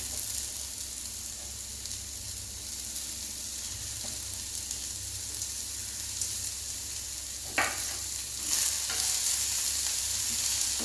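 Onion and a little carrot fry in a pan on a stove for a tapioca adai, giving a steady close sizzle. Spatula scrapes and stirring knocks come through near the end, with no talking.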